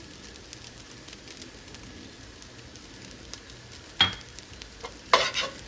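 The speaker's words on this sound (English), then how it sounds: "We have fried up the rice nicely. And then we are going to add the masala that we made before." Rice frying in a pot with masala for a Kashmiri mutton yakhni pulao, a quiet steady sizzle with a few sharp stirring scrapes near the end, with no talk.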